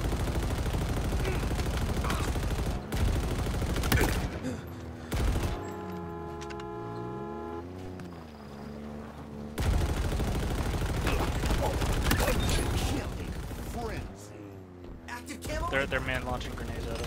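Grenade launcher fire in Halo Infinite multiplayer, a dense run of loud gunfire and explosive bursts with a short lull in the middle, under constant excited talk from several players.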